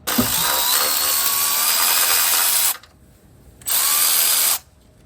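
A refurbished Milwaukee cordless electric ratchet whirs loudly in two bursts, the first long and strained, the second shorter, with a brief silence between them.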